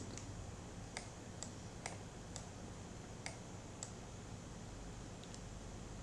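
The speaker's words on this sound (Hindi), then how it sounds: "ऐसी आवाज़ आती है घड़ी के चलने पर।" Faint, soft ticks of a clock sound at a steady, unhurried pace against a quiet hissing background.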